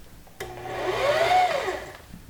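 Singer HD6380M sewing machine winding a bobbin: a steady motor whir starts abruptly, rises in pitch and holds for over a second, then eases off, heard alone.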